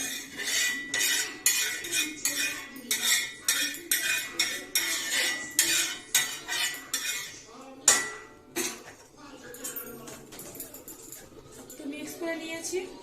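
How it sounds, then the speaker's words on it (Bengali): A spoon beats besan chilli batter in a bowl, making rapid rhythmic clinks and scrapes against the sides in quick bursts, close up, with a voice talking over the stirring. "ভালো করে এমন করে মিক্স করে নেবে"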